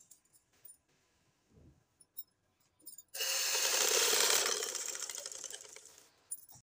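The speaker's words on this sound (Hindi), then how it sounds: "ये पोंछे के ऊपर सिलाई लगाते जाएंगे" A sewing machine stitching the hem of a shalwar starts after a few small clicks and handling noises, then runs in one loud, steady, close burst of about three seconds before stopping.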